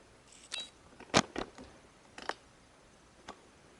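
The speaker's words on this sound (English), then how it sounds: "it's just a matter of prying the bezel off" Plastic bezel being pried off an Acer X193W monitor: a few sharp snaps and clicks spaced across a quiet background, the loudest crack near the middle, with smaller ticks before and after.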